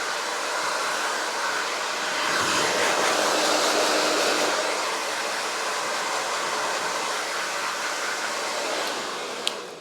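A hair dryer blows steadily while rough drying hair, a loud, continuous broadband whoosh held close for the whole stretch, with a slight swell in the middle and a small click at the very end.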